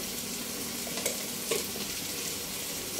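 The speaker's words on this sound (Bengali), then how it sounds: "এবার আমি নেড়ে চেড়ে নেব সব উপকরণগুলো" Turmeric, green chilies and spices sizzle in a pan for a homestyle pangas fish curry, giving a loud continuous frying hiss with a couple of brief stirring clatters.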